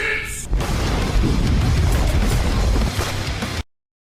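Loud, rumbling explosions in Stardew Valley roar continuously, booming and crackling before cutting off abruptly.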